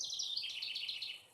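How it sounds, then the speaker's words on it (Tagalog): Small birds chirping near nesting spots, a quick run of high, bright twittering notes close by that trails off after about a second over quiet background. "Kaya pala marami ibon doon."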